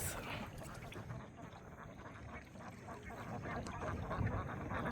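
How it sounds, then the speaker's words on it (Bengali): Domestic ducks in a Bengal village quack steadily at close range, a dense overlapping chorus over outdoor background noise with no talking. "আপনারা দেখতে পাচ্ছেন দেশি হাঁস এখানকার।"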